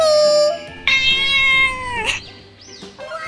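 A cat gives a loud, close, long drawn-out meow that rises and bends in pitch, then trails into shorter whining calls, heard alone with no talking.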